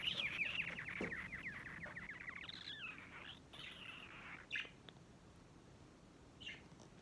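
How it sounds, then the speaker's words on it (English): A pet budgie chirps and warbles close by, a quick run of bright twittering notes that settles into a few scattered tweets, loud and alone with no talk. "This is my other bird."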